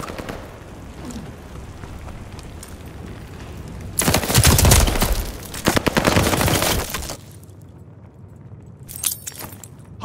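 In Call of Duty Vanguard, gunfire erupts at the hardpoint as a loud, dense burst of rapid shots and impacts lasting a few seconds, then a quieter stretch and a brief final volley.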